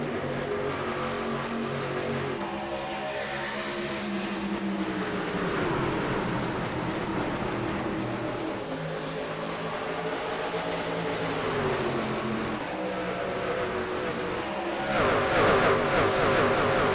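Race truck engines roar as the field takes the green flag at Phoenix, a continuous loud, blended rumble of many motors revving, rising in intensity toward the end.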